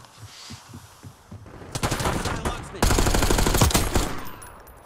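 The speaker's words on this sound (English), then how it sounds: "Mowing them down with the Ames 85." Ames 85 assault rifle in Black Ops 6 multiplayer, loud close automatic fire in two sustained bursts after a few quieter shots.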